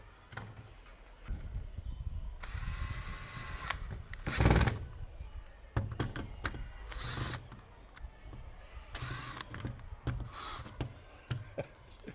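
A screwdriver drives a screw into a batten holder mounted over a large hole, giving close scraping and creaking turns in bursts, with intermittent clicks and louder grinding surges between quieter handling noises.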